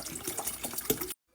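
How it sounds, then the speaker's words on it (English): About three cups of water pour into a pot of tomato sauce seasoned with chicken bouillon, oregano, salt and pepper, a close, steady splashing gush that stops abruptly after about a second. "Now I'm gonna add some water."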